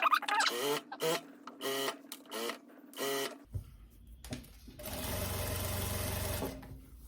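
A sewing machine stitches the belt of a loose viscose dress, running in short rhythmic bursts with pauses between them, then a longer steady run of stitching near the end, close and clear.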